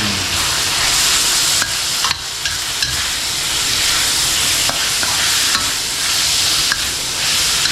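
Bamboo shoots being stir-fried in a hot pan, a continuous loud sizzle with scraping stirs and occasional utensil clicks against the metal.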